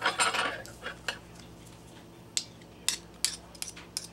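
A spoon clinks and scrapes against a baking dish as pecan pie filling is scooped and dropped into squares, with soft, sporadic metallic taps up close, no talk.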